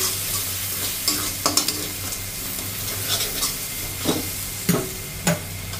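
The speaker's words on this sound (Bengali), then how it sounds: "দিয়ে এবার নেড়ে চেড়ে আর একটু কষিয়ে নেব" Ground cumin paste is stirred and fried with spices in a pan for a fish kalia curry, giving a steady low sizzle broken by repeated sharp scraping strokes of the spoon, close and with no voices.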